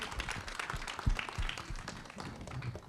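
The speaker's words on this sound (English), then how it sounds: "A big round of applause, ladies and gentlemen," Audience at a film press meet claps in scattered, uneven applause with distinct individual hand strikes, fairly faint and distant.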